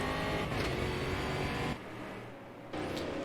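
Brazilian Stock Car engine in the racing game Automobilista 2 at Donington, a steady loud drone that dips briefly mid-clip as if lifting off the throttle, then surges back, with no talking.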